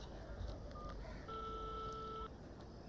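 Telephone being dialed, a short run of electronic keypad tones with a longer steady beep, faint under a low background murmur.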